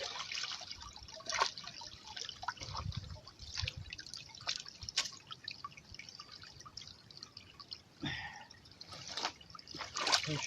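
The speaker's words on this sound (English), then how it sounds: "Get the water running." Water trickles and drips unevenly at an outdoor trap set being bedded in mud, with scattered small splashes and no voices heard.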